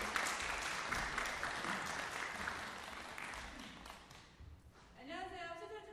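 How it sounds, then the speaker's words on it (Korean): Audience applause welcoming a speaker at a Korean social culture college opening: dense, fairly loud clapping that gradually fades, then a voice begins talking near the end. "큰 박수로 맞아주세요"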